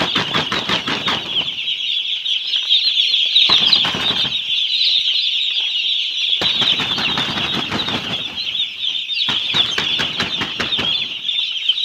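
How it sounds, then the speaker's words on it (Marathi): Chicks in a poultry farm shed, 4100 birds from Vijay Agro, flap their wings in repeated loud bursts over a steady, dense high chirping and clucking that runs through the whole stretch, with no talk. "4100 पक्षी आलेत मित्रांनो."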